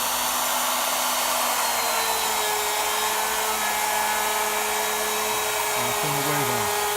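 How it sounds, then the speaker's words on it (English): A router running on an ornamental turning machine, a loud continuous high-pitched whine held steady, with a lower motor tone that shifts and steps down near the end. "Start the router up."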